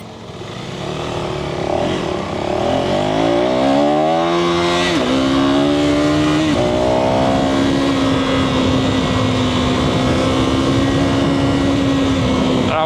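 A KTM 390 motorcycle pulls hard in first gear, its single-cylinder engine rising in pitch through sharp revving surges before settling into a steady, loud, close drone.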